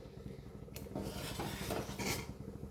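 A ladle stirs thick milk payasam in a heavy pot, giving soft scraping and rubbing strokes with faint metallic clinks, quiet and close with no talk.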